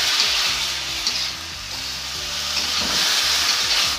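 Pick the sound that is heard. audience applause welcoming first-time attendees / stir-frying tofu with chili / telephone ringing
stir-frying tofu with chili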